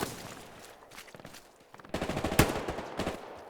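Machine gun fire in the World War II shooter Hell Let Loose, rapid bursts of shots at moderate distance, growing louder and denser partway through.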